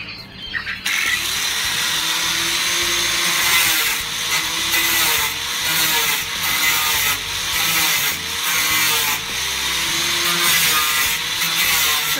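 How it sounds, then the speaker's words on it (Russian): Hand or power sawing through wooden boards while building quail cages, a steady rasping grind running continuously for about twelve seconds with rhythmic strokes, close and loud, no talking. "Еще здесь надо выпилить."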